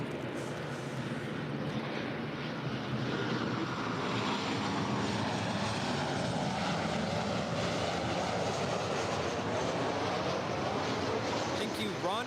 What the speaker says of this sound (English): our first arrival with Nighthawk is going to be Delta Airlines Flight 763 coming in from Raleigh-Durham